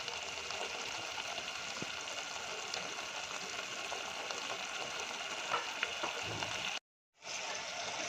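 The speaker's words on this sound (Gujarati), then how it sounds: "થોડી થોડી વાર આટે આપણે ચલાવીશું અને આને શેકાવા દઈશું તેલમાં" Onion and tomato paste frying in oil for a Kathiyawadi tuver thotha, a soft, steady sizzle with faint stirring that cuts out briefly near the end before resuming.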